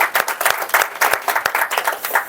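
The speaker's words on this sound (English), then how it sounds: "Can we have a good round of applause for him?" A small club audience at a Toastmasters meeting claps for their division director, with sharp individual claps in a fairly sparse, uneven rhythm, close and moderately loud, with no talking.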